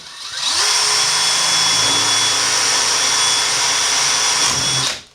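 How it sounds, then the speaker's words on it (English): A power drill with a metal bit bores into a metal bathroom frame, whirring up sharply and holding a loud, steady high-pitched whine for about four seconds before spinning down. "Chris has got like a metal drill bit. You've got to drill into here to secure it."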